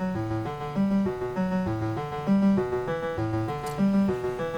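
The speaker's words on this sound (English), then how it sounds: "what you're hearing right now is the zero oscillator" A Serge modular synthesizer's zero oscillator, sequenced by an Arabesque generator and stepped function generator, plays a bouncy, repeating pattern of pitched synth notes, steady and alone.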